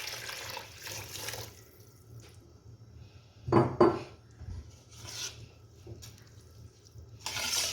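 Yakhni stock is poured from glasses into soaked rice in a cooking pot for a white beef pulao: soft watery splashing and clinks of glass against the pot, with a louder pour in the middle and another burst near the end.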